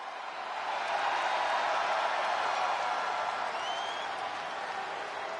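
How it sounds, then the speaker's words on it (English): Steady, dense crowd cheering and applause from a Toronto arena audience at a WWE 2K25 Monday Night Raw main event, loud and sustained throughout with no talk over it. "the crowd here in Toronto cheering for CM Punk here tonight on Monday Night Raw in Toronto"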